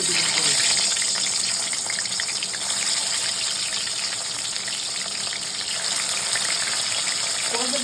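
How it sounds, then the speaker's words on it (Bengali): Hilsa fish rubbed with salt and turmeric frying in oil, a steady crackling sizzle heard close, with faint voices underneath. "মাছগুলো ভেজে নেবো একটু"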